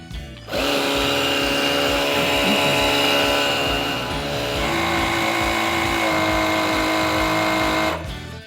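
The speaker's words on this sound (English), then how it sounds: "Let's hook up the hose to the valve here, and all we have to do is hit start." An ETENWOLF Vortex S6 portable air compressor, set to 35 PSI, inflates a flat tire with a loud, steady mechanical buzz that starts abruptly, holds for about seven seconds and then cuts off.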